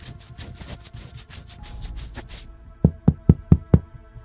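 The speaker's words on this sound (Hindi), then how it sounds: "मेरे दरवाजे के बाहर से ऐसी आवाज़ आ रही थी जैसे कोई दरवाजे को खरोच रहा" Knocks on a door in a horror story setting, with a stretch of scratchy rubbing followed by five loud, evenly spaced raps that stand alone and close.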